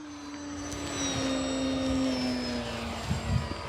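A 1.6 m RC model Fi 156 Storch airplane climbs just after takeoff on its maiden flight, its motor giving a steady, moderately loud whine that rises slightly and then eases as it flies.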